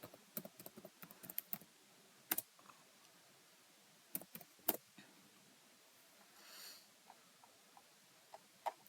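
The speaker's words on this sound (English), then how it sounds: "I will type only marketing." Fairly faint keystrokes on a computer keyboard, entering a search term while setting up a WordPress site, come in irregular bursts and single taps, with a brief soft swish midway and no talking.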